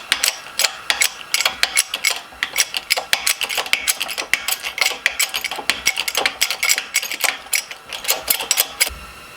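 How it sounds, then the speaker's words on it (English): Jeep Cherokee XJ clutch fan bearing being pressed in with a shop press: a dense, steady run of sharp metallic clicks and ratcheting knocks, close and fairly loud, continuing throughout with no talking. "just go ahead and press it in."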